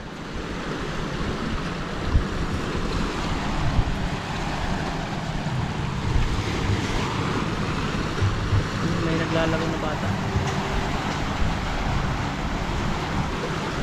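Large midday sea waves break on the shore in a steady, close, loud roar of surf with wind buffeting the microphone, continuous and without pauses.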